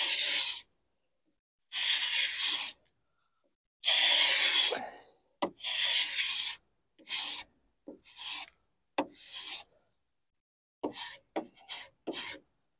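Carbide blade scraper rasping across the surface of a dirty 1930s Heywood Wakefield wooden dresser, in repeated separate strokes of about a second each, close and fairly loud, with short pauses between strokes and no talk.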